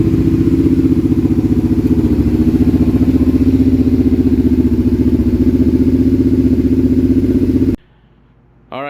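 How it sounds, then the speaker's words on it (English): A Kawasaki drag bike engine idles high after a camshaft change, a loud, close, steady lumpy rumble that cuts off abruptly near the end, followed by a brief faint sound. "High idle, we're going to adjust that down manually on that side, but it sounds way better."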